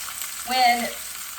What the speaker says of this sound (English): cooking them in olive oil, skin side down for a few minutes just until they are nice and golden brown